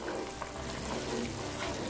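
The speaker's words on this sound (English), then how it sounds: "sauce is really boiling. This is exactly how it should be." Steady bubbling and gurgling of jollof rice sauce at a rolling boil in a pot, continuous and close, with no talking.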